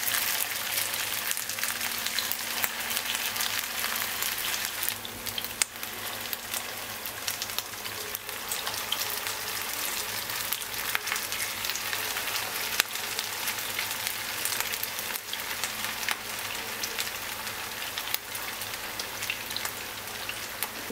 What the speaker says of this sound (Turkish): Yağ ısındıktan sonra şimdi köfteleri güzelce kızartacağım.